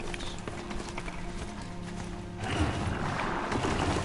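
Horse hooves clopping in Horizon Zero Dawn over steady game ambience, with the hoofbeats getting louder and more urgent about halfway through.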